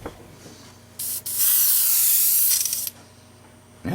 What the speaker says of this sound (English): it seems to spray very controllably